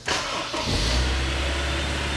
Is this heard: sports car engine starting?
yes